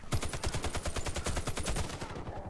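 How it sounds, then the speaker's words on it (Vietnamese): Rapid automatic gunfire in the Warface team deathmatch shooter, a dense burst of evenly spaced loud shots lasting about two seconds before cutting off, with no talk. "rõ ràng mình bắn nó ăn một đống đạn mà nó vẫn bắn lại được mình"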